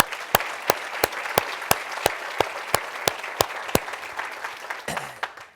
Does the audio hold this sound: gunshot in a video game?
no